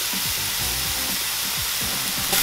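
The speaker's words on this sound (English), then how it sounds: "Listen to that sizzle" Onion and red bell pepper sizzle in a frying pan, a loud, continuous crackling hiss with occasional faint stirring scrapes, close up and without talk.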